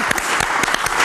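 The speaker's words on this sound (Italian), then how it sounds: "un applauso di benvenuto a Babba" A studio audience on an Italian TV show applauds in welcome for a guest named Babba, a dense, steady wash of clapping sustained throughout the short burst.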